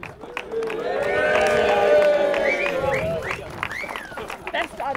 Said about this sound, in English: A little bit of a round of applause, please, here for Sean.